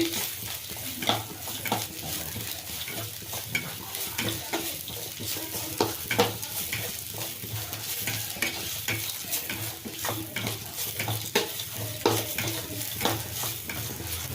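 Mint chutney ingredients fry in a pan and are stirred, a continuous sizzle broken by repeated scraping and knocking strokes of a spoon against the metal.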